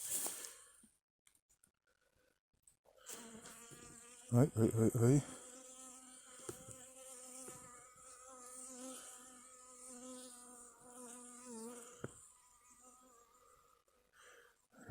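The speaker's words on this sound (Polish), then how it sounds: "O, tu też pszczoła chodzi." Honeybees hum in a steady buzzing drone close by at a hive in a winter apiary, with a voice briefly exclaiming repeatedly over it and a loud rustle early on.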